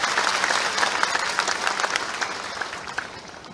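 Audience applause at a Bihar Diwas 2025 gathering with the Madhya Pradesh chief minister, a sustained burst of many hands clapping, loud and dense, slowly fading, with no talk over it.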